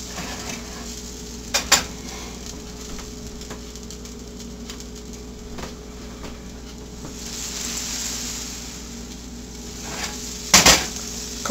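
Cattail bannock frying in a pan outdoors in the woods, a soft steady sizzle with occasional clinks and scrapes of a metal flipper against the pan, a couple of sharper knocks near the start and end.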